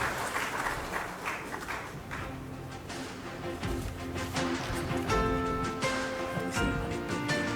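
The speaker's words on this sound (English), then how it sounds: "give them a round of applause" Audience clapping at an award ceremony, moderately loud and steady, mixed with music playing through the hall and some uneven, patchy claps.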